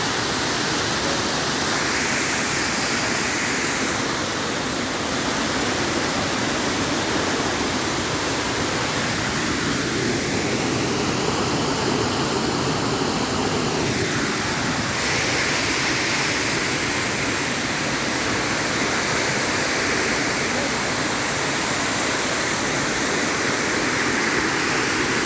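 A 23-metre waterfall in the Sinharaja rainforest gives a loud, steady, close rush of falling water that fills the whole stretch without a break.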